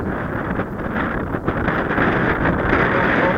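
Strong wind roars across the microphone on a windy flying day, a loud, low, buffeting rumble that surges and dips throughout with no break.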